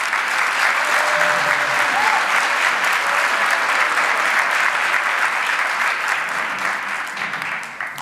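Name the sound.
audience applause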